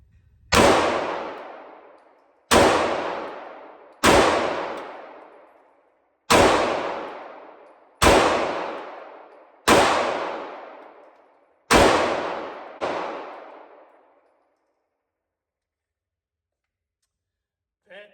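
A Smith & Wesson M&P 2.0 Compact pistol fired at a range, eight loud, close shots at an uneven pace over about thirteen seconds, each ringing out with a decaying echo, followed by quiet.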